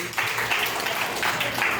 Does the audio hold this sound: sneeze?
no